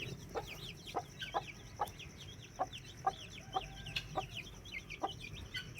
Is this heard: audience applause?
no